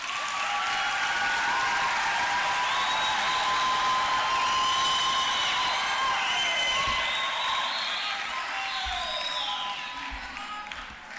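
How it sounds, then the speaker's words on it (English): Applause for graduates at a university graduation ceremony, a sustained hall-filling clap with some cheering and tonal sounds from the crowd over it, easing off near the end. "A big round of applause for our graduates"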